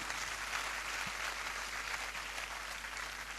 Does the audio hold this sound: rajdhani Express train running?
no